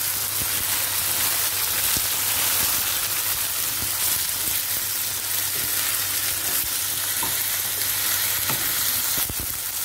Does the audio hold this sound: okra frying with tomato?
yes